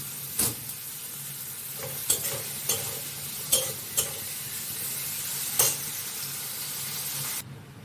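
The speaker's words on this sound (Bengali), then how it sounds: "সব সবজি আমি অল্প অল্প করে নুন দিয়ে ভেজে নিচ্ছি।" Mixed vegetables, salted a little at a time, fry in a pan: a continuous close sizzle punctuated by several sharp spatula scrapes and stirs, cutting off abruptly at the end.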